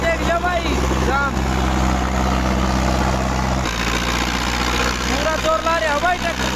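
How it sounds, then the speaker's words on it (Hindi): A Sonalika DI 55 tractor engine labors under full power in a pulling contest, a loud, dense, continuous low rumble with shifting pitch, while a crowd shouts and voices rise over it. "पूरा जोर ला रहे हवाई ट्रैक्टर, पूरा जोर।"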